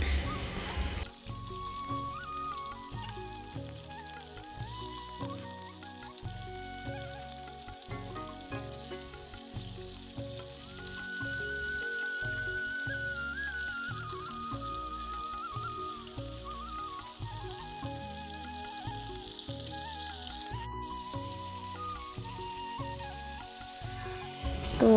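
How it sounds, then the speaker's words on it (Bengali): Brinjal, pointed gourd and other vegetables coated in salt and turmeric sizzle steadily in hot oil in a home kitchen, a continuous close frying hiss with small crackles and brief clinks. "বেগুনে সব কিছুতে আর কি নুন হলুদ মাখিয়ে ভাজতে দিয়ে দিয়েছি"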